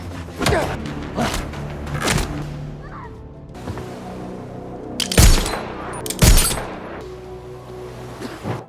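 Gunfire and heavy impacts in a fight scene from an action film, with several loud broadband bursts spaced a second or so apart over a dense soundtrack bed.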